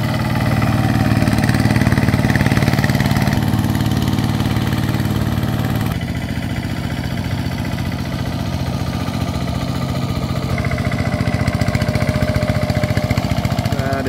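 A small single-cylinder hand tractor engine chugs steadily in a rice paddy, a continuous close drone that drops slightly in level partway through and carries on without a break.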